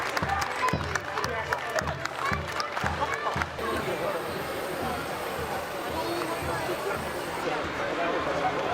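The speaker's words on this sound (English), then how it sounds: "Let's give a big round of applause for them." Outdoor Saint Patrick's Day crowd applauds an accordion band: brisk, close clapping for a few seconds, then a broader wash of crowd noise and chatter.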